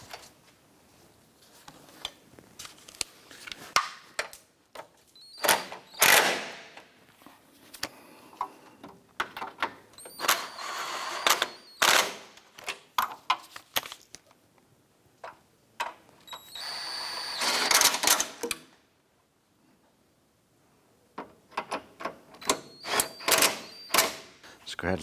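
Headlight mounting bolts being tightened on a 2004-2008 Acura TL, heard as clusters of quick metallic ratchet clicks in short bursts separated by quiet gaps, close up, with brief speech in between.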